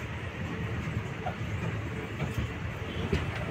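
A Silambu Express passenger train running toward Virudhunagar Junction on the Chennai to Srivilliputhur route, heard as a steady, moderately loud rolling rumble with rattle from the carriage, and no talking.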